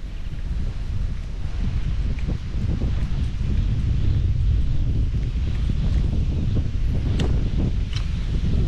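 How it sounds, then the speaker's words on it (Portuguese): Strong wind blows steadily across the microphone beside a lake, a continuous rushing roar with gusty buffeting and faint rustling of nearby brush. "E o vento tá forte pra caramba."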